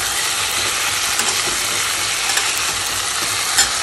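Biryani spices sautéing in a hot pot give off a loud, close, continuous sizzle, with occasional scraping taps as they are stirred.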